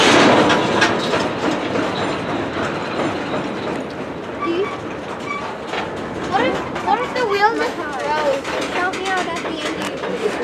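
A CSX mixed freight train rolls along the tracks in Brunswick, a steady loud rumble with rhythmic clickety-clack of wagons throughout, while people talk nearby over the noise.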